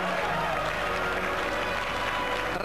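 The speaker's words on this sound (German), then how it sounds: "Jubel bei den Fans." Football crowd at a 1997 Salzburg versus Rapid match applauding and cheering after a goal, a steady distant roar of clapping filling the whole stretch.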